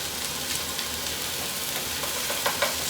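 Burger patties fry in olive oil over medium-high heat, giving a dense, steady sizzle and crackle that runs unbroken from start to finish, close and fairly loud, with no voices.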